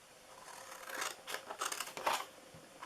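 Scissors snip through scored cardstock while making a handmade card and gift box, a few close, quiet crisp cuts in quick succession with no voices.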